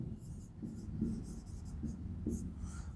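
Pen writes out the given values of a machine design coupling problem, a soft, close scratching with short strokes over a quiet background hum.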